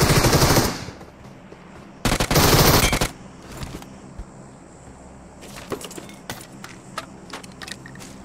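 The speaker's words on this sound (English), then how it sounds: "Stop shooting" Video game gunfire comes in two loud, dense bursts of rapid automatic shots, followed by scattered, fainter single cracks and short volleys at a distance.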